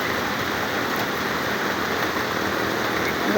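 Heavy rain pours down in a steady, dense roar of broadband hiss, constant and close with no pauses.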